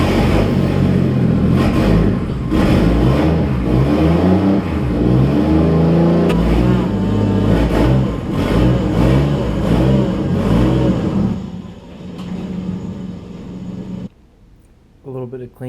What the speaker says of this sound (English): I have to pull the car out so I can make room in the garage.